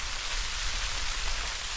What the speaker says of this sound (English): Well, the rain's back on. Heavy.